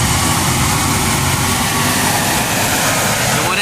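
A Hino 500 FM 280 JD Euro 4 truck runs loud and steady, a dense engine roar with a low rumble throughout.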